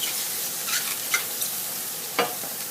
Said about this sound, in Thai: มันจะดังกิ๊กกิ๊กกิ๊กเพราะว่าน้ำมันดีดออกนะคะ